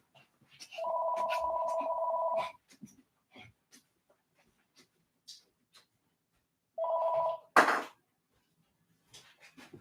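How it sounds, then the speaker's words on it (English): A telephone rings twice: a long buzzing ring, then a shorter one several seconds later, fairly faint against a quiet room with small scattered noises. "sometimes when that phone rings"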